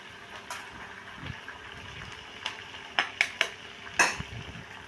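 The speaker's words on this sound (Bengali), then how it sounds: "তারপরে দুটো ডিম আমি এখানে দিয়ে দিচ্ছি।" Two eggs are cracked into a bowl, heard as several sharp clinks and taps against the rim in quick succession, with a final louder knock, set over faint kitchen background noise.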